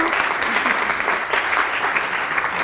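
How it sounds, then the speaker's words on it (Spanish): A crowd claps steadily and loudly for a few seconds, a dense patter of many hands. "Un gran aplaudiment per a les nostres actius, Isabel, Alina i Maria."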